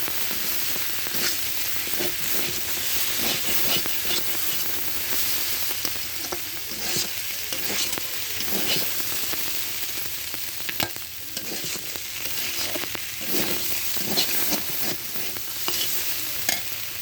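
Taro and Sundarbans crab frying together in oil in a pan: a dense, continuous hiss of sizzling with occasional stirring scrapes and light pops, close and fairly loud, no voices.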